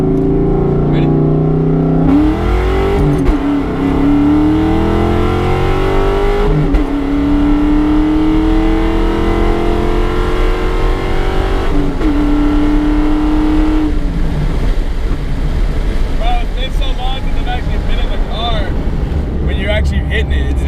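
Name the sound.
car engine accelerating hard on a first gear pull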